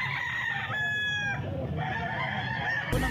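A gamecock at a fighting-cock market in Grotto, Bulacan crows once near the microphone, a clear drawn-out call over a busy background of crowd chatter and other birds.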